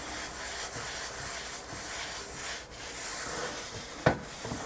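Salt scrubbed around a cast iron pot gives a steady, gritty rubbing close by, continuous for several seconds, then ends in a sharp knock.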